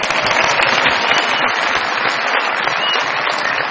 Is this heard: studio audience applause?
yes